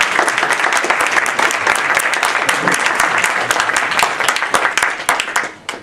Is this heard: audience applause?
yes